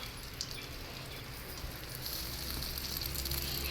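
A ladle omelette sizzling in a pan, a soft, steady frying hiss that rises slightly toward the end, faint and close with no talking.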